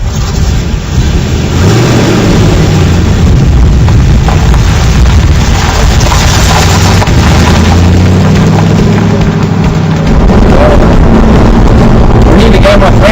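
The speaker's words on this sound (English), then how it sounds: "This is the first time I've ever driven a 1965 Corvette Stingray" A 1965 Corvette Stingray drives with its engine loud and close, rumbling and revving throughout with low booming surges, people talking faintly underneath.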